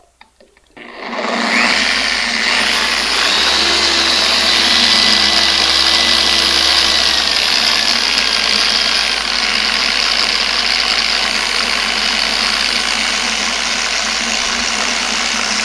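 A rotary orbital polisher spins up and runs steadily, its electric motor giving a loud, continuous high whine and hum close by that holds nearly unchanged for about fourteen seconds.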